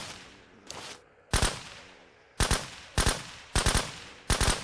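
Gunfire in the zombie survival game SurrounDead: a faint early shot, then four loud, sharp bursts about a second apart, each with a brief rattling tail over a low ambient bed.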